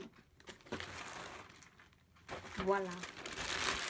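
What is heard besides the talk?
handling and crinkling bubble wrap packaging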